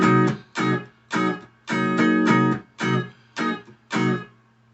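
Funk electric guitar plays choppy rhythmic chord strums in eight short, punchy bursts with brief gaps between them, close and clear with no talk.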